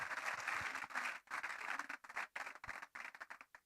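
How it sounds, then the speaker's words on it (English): Audience at a tax summit applauds a speaker as she comes up on stage, with steady clapping that swells, breaks briefly and resumes in choppier bursts. "let's continue to give her a big round of applause as she comes up stage"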